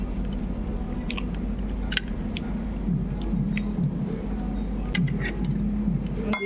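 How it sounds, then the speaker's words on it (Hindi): Close chewing and biting while eating a meal of paneer curry, with soft crunches and a few light clinks of dishes spread across the clip. "अच्छा पनीर की सब्ज़ी खाती हूँ।"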